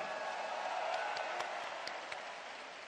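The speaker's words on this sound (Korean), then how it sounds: "여러분 큰 박수 부탁드립니다" Audience clapping steadily at a Democratic Party presidential primary joint campaign rally, a dense, moderately distant wash of applause lasting throughout with no voices standing out.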